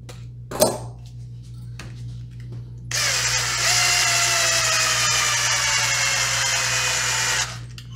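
After a sharp click and some light handling noises, a power drill spins up and runs steadily for several seconds before stopping, over a low hum, while making a wooden fishing popper lure.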